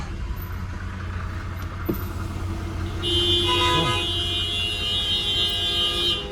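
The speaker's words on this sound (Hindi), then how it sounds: "कोई दिया हॉन्किंग है, मालूम में क्यों हॉर्न मार रहा है यार?" Stuck in jammed road traffic near army trucks, a car horn begins midway and holds a long, loud, steady blare over a constant low engine rumble.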